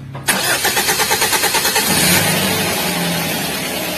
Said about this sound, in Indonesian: Kita dengerin lagi starternya